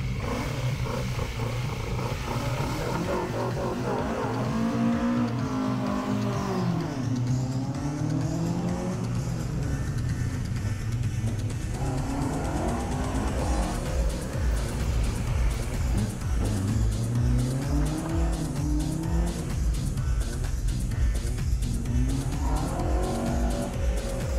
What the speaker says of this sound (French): Maintenant, ce sera le départ de cette voiture du sympathique équipage jurassien.